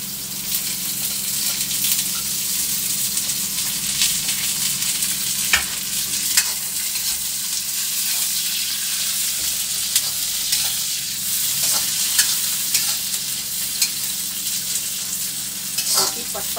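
Cabbage, onion and green chillies stir-fried on full flame for chowmein make a loud, dense, continuous sizzle, with occasional spatula clicks against the pan throughout.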